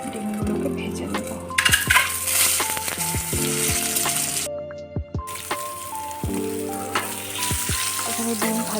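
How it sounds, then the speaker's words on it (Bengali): Eggs fry in oil seasoned with salt and turmeric in a kadai, giving a steady loud sizzle with occasional spatters and stirring clinks, close by, with no voices. "আমি ডিমগুলোকে ভেজে নেব।"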